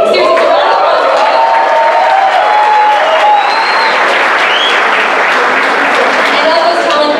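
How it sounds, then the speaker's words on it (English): Brazilian fans at a game-show conference roar with loud applause and cheering, a dense, close wall of clapping with whistles and shouts, a voice briefly heard amid the noise. "Seriously, a round of applause."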